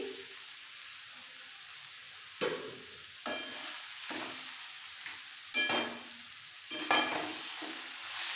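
Radish curry with chopped coriander being stirred in a pan on the stove, a steady low sizzle broken by several distinct scraping strokes of a spoon spaced a second or so apart, close and fairly quiet, no talking.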